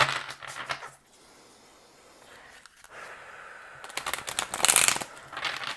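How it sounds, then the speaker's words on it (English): A deck of tarot cards being shuffled by hand, several soft riffling bursts and papery flutters close by, with quieter handling gaps between them. "we're going to do 2 more shuffles, all right? And then we'll cut"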